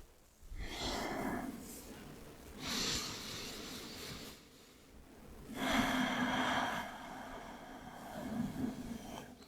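Deep, breathy inhales and exhales in child's pose during a Sivananda hatha yoga session, three or so long breaths close by over a steady background hiss.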